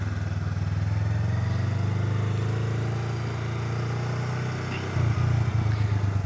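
A Honda Rebel 500 motorcycle ridden by a new rider on the road. Its engine gives a steady, close, loud drone with rushing wind, then the revs rise briefly near the end.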